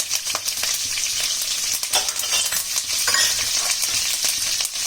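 Curry leaves and green chili fry in hot oil in a pan with dal, giving a steady, close crackling sizzle with small popping bursts throughout.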